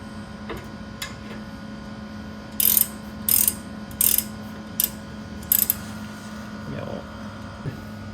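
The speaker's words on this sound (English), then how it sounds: "So you tighten them down with the ratcheting wrench" A ratcheting wrench tightens 3/4-inch bolts on a Nissan 350Z brake caliper bracket, with about six short bursts of rapid clicking at close range and faint steady hum and shop noise in between.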